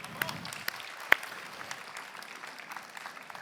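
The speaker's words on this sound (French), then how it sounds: "Et on peut l'applaudir" Sparse, faint clapping from a conference audience at an innovation pitch final, a few scattered hand claps standing out from a thin, quiet crowd background.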